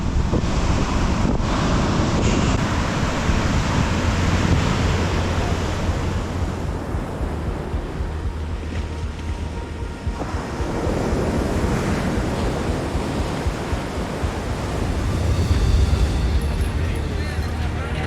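Wild Atlantic Ocean waves break on a golden-sand beach below rugged cliffs on the Portuguese coast, and strong wind buffets the microphone in a continuous loud roar that swells near the end.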